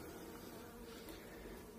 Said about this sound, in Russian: на облете пчелки